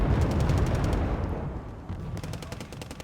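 Dense, continuous MG3 machine-gun fire in Wargame: Airland Battle, loud bursts layered over rumbling battle noise with rapid repeated cracks throughout, no talk.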